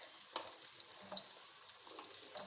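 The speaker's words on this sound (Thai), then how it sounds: "ผัดแครอทไปก่อนค่ะ" Carrots sizzle and crackle as they are stir-fried in a pan, a steady, moderately quiet frying hiss with scattered pops and stirring scrapes.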